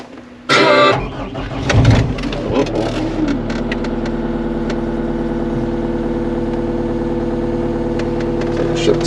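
Engine at a construction site settling into a warm-up idle after a sudden start-up surge, then holding a steady, loud, even hum with faint background voices early on.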